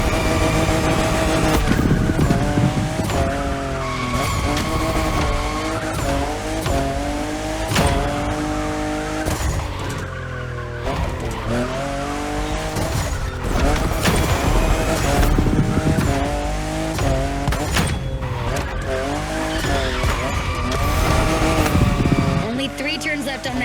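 A fifth-generation Toyota Supra races through The Crew Motorfest, its engine revving up and down through gear changes with tyre squeal and skidding, loud and continuous, while a voice talks over it.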